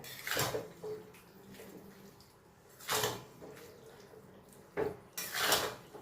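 Black cumin paste being stirred into pumpkin greens in a pan: a few scattered scraping and clinking strokes of a utensil against the pan, with quiet gaps between them.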